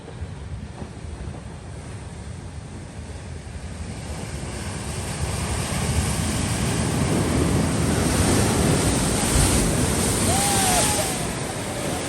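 The Severn Bore tidal surge rolls up the river at Elmore Back, a broad rushing wash of water that swells steadily louder and nearer, mixed with gusty wind buffeting the microphone.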